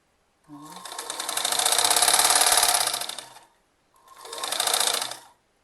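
A sewing machine stitching a strap-style kurti runs in two bursts, a longer run then a short one, loud and close with a brief stop between.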